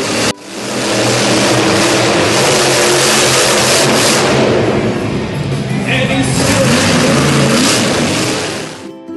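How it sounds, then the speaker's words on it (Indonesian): A monster truck engine revs loudly and close, a gritty sustained roar with rising and falling throttle swells lasting most of the clip. "M is for monster truck, truk raksasa."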